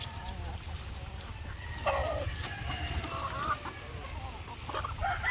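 Chickens cluck and murmur nearby over a steady low background hum, with a couple of brief louder calls.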